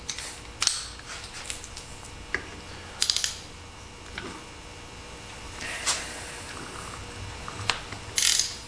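Bolts are worked loose on a rare 1940s Lawson 2-horsepower engine that sat unused for 40 years, heard as several short bursts of ratcheting wrench clicks and metallic taps spread between quiet pauses. No one speaks.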